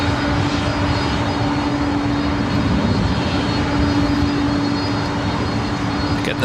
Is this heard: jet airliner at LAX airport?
yes